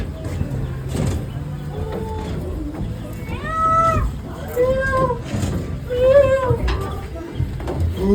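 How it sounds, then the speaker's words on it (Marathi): Loud, rising wailing calls of a peacock ring out several times, close and repeated, over a steady background murmur with some voices nearby, at the edge of a jungle. "जंगलात जायच्या आधीच मोराचा आवाज आलाय"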